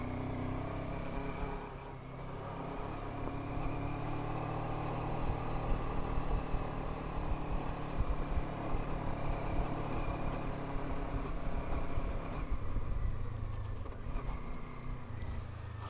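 Kawasaki KLE500 adventure motorcycle climbing a hill with snow, a continuous close engine drone with shifting revs and wind noise over the whole ride.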